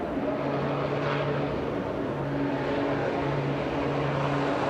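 A racing truck from the MV Commercial Truck Racing team runs flat down the straight at Le Mans, its engine a steady, close, continuous droning roar with a faint easing off, no voices.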